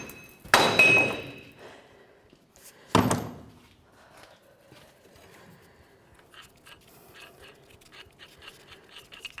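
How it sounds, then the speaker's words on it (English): Two loud hammer blows on a 2004-2015 Nissan Titan front wheel hub and bearing assembly, about two seconds apart, each ringing out metallically before faint clinks and rattles follow. "Now let's give this a couple loving bonks to break it free."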